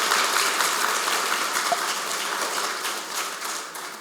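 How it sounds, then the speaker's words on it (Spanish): Applause from an audience at a Spanish-language forum, a dense even patter of many hands that holds steady and slowly tapers off, fairly distant. "pido un fuerte aplauso"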